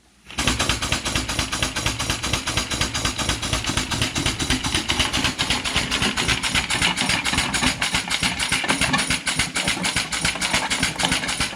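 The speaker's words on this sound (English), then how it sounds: "Let's start the pump and see what happens." A pneumatic diaphragm pump starts up and runs steadily, draining liquid ballast from a tractor tire, giving a loud continuous rapid pulsing chug close by with no speech.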